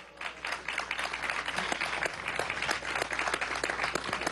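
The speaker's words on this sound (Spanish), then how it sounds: "Vamos a un aplauso." Audience applause at a Congreso de la Patria session on religions and faiths, a steady wash of many hands clapping from start to finish at moderate, somewhat distant level, with no speech over it.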